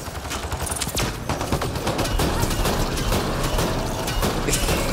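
Sustained, rapid gunfire from a Mass Effect Andromeda multiplayer match, with dense overlapping bursts and loud, continuous shots that run without a break.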